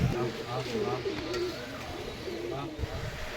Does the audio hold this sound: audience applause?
no